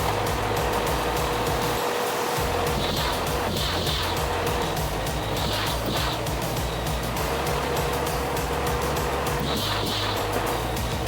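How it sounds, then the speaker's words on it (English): An engine idles and revs in a steady drone from a car left abandoned for a year, with a loud, rough low rumble and repeated higher whining surges that rise and fall over the running motor. "It looks like the car is running okay"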